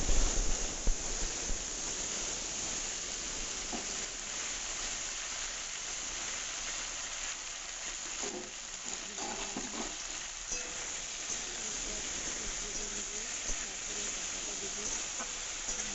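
Potatoes sizzle in hot oil in a pan over tempered spices while a posto dish with drumsticks is cooked, a steady, close, broadband frying hiss that runs throughout with occasional stirring clatter and no talk.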